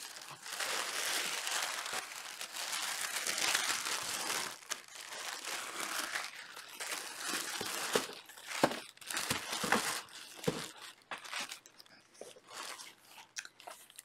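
Tissue paper crinkles and rustles as a yarn subscription box is unboxed, close crackling bursts that grow more broken and uneven toward the end, with no one speaking.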